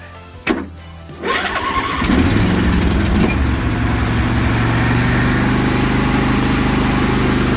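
A John Deere LA-175 lawn tractor, choke set, cranks briefly and catches, then settles into a steady, loud, close engine run that continues without talking.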